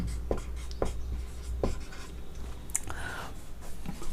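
Pen or marker writing numbers on a surface, soft intermittent scratching strokes close by, with a few short squeaky marks among quiet background noise.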